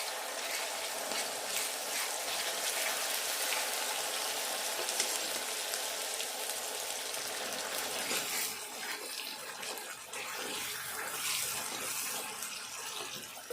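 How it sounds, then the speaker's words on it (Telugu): Marinated chicken goes into a hot pan for a chicken gravy, followed by a dense, steady sizzling hiss that runs continuously and close, with no talking. "ఈ చికెన్ను ఇందులో వేసుకోవాలి."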